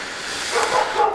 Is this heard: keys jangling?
no